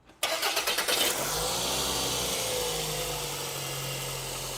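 A car engine cranks with a quick burst of starter pulses, then catches and settles into a steady, fairly loud idle that runs on without talk; the drive belt system of the engine bay is being checked.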